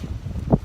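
Wind gusting outdoors, a brief rough buffeting against the microphone with a louder puff near the end.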